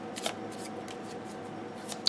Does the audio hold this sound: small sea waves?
no